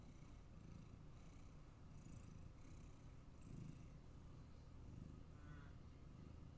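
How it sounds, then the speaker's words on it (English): A cat purrs close to a microphone in a quiet room, a soft, steady rumbling purr that runs unbroken for several seconds. "My microphone is detecting you purring."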